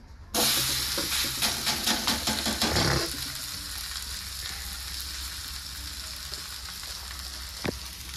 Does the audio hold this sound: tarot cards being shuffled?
no